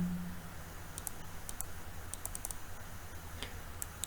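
A computer mouse double-clicks while editing shapes in CorelDRAW, giving several crisp, faint clicks in quick pairs scattered over a steady low hum.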